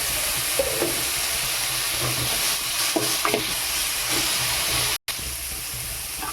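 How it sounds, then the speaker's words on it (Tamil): Bottle gourd sautéing in a pan gives a steady hissing sizzle with a few soft stirring scrapes, close and fairly loud, and a brief dropout near the end. "சொரக்காய் இப்போ நம்மளுக்கு வதங்கிட்டு இருக்கு"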